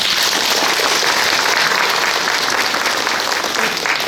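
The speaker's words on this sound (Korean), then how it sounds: "모두 박수 부탁드리겠습니다" Loud, dense audience applause fills a residents' briefing on a Gocheok-dong redevelopment project, sustained evenly throughout with no speech over it.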